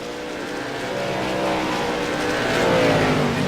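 Late model race cars roar around the Five Flags Speedway oval, a steady, loud engine drone that swells and builds toward the end as the pack closes in, with no talk over it.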